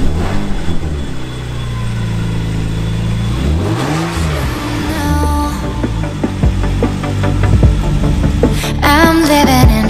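A Lexus IS200 engine starts and runs to warm up, loud and close, with a low idling rumble and rising and falling revs. Near the end, sharper clattering sounds come in over the engine.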